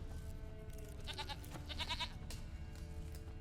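A goat in the video game The Witcher 3 gives two short, wavering bleats, faint and fairly far off over a steady background hum of game ambience.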